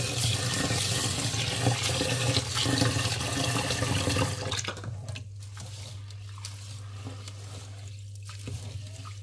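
Running tap water pours loudly into a sink while something is washed, a dense splashing rush for about four seconds before the flow drops to a quieter trickle and drip.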